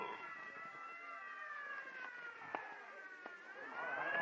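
A 1949 radio-drama ambulance siren wails faint and steady. A few sharp clicks and knocks come through in the background, and the siren swells louder near the end.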